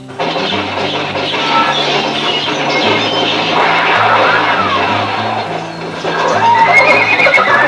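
Horses neigh and whinny loudly in a 1970 western film, with clip-clopping hooves underneath and a dense, busy soundtrack around them.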